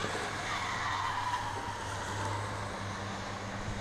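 Scottish C1 Cup race cars lapping a circuit at race pace, a continuous loud roar of engines with tyre noise, held steady for several seconds without voices.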